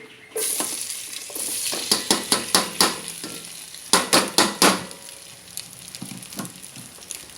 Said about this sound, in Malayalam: ഈ നെയ്യിൽ നമ്മൾ ഈ അടയിനൊന്ന് നല്ലപോലെ ഇളക്കിയെടുക്കണം